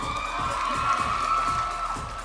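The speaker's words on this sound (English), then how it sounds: "Let's give him a round of applause." An esports crowd at a live Mobile Legends tournament match cheers and whoops continuously at moderate volume, a lively roar of many voices with no clear gaps.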